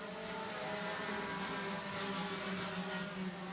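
Race cars roar off at the green flag on opening day of the 2024 season, a steady, loud, continuous engine drone with a slight swell partway through, heard from a distance with no talk.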